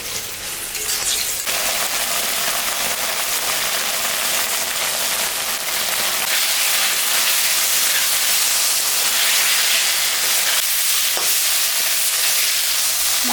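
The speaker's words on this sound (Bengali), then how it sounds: "মশলাটা আর একটু ভাজা হবে।" A ground paste of ginger, cumin, and dried and green chilies fries in a pan, sputtering with a dense, continuous close sizzle like heavy rain, broken by a couple of faint utensil clicks; no one speaks.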